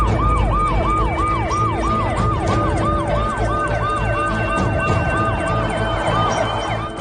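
An ambulance siren wails loudly and continuously in a rising-and-falling cycle, close by, over a low rumble of road traffic.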